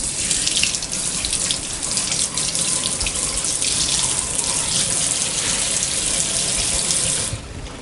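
A tap runs steadily into a sink while a bamboo drawer organizer is washed, making a continuous loud splashing rush that cuts off just before the end.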